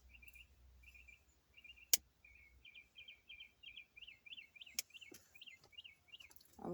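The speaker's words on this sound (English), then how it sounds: "I like listening to the birds" Small birds sing outdoors, quiet and fairly distant, with repeated short chirping phrases that speed into a rapid trilling series, plus a few sharp clicks.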